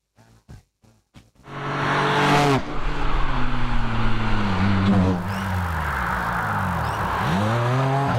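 A race car climbs a hillclimb course, starting after a few sharp clicks with a loud engine that revs up through rising and falling gear changes, close and continuous throughout.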